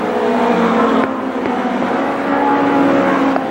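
Midget race cars roar around the Columbus Motor Speedway oval, a loud continuous engine drone with shifting pitch as the cars pass close by.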